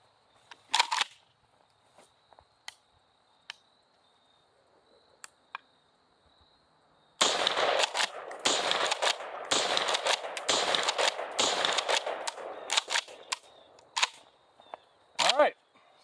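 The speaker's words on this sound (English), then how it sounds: "Now, I'm only shooting at 7 yards here with these mini shells." A Kel-Tec KS7 shotgun fires mini shells at close range with a red dot sight mounted, giving a sharp report early, then sparse clicks before a dense run of loud, clustered bangs and a final shot.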